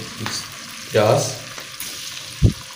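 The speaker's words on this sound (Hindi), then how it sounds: "प्याज को कर देते हैं ब्राउन।" Onions frying in a pan for a mutton curry, being stirred until brown: a steady sizzle runs throughout, with a few louder stirring scrapes and a sharp low knock near the end.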